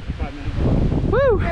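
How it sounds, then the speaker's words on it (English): Wind gusts across a mountain ridge on the Taconic Crest Trail, a low buffeting rush on the microphone, with a brief voice over it. "Windy up here."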